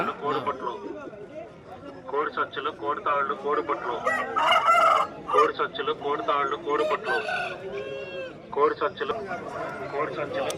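Roosters and other fowl at the Vijayawada poultry market crow and cluck several times, loud and close, amid busy crowd chatter and bargaining voices.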